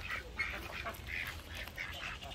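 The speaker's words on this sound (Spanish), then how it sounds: "Allá está otro pato canadiense que nos han donado." A donated Canada goose (called a Canadian duck) calls in a run of about six short, bright honks at a fairly even pace, near and clear above a low outdoor background hum.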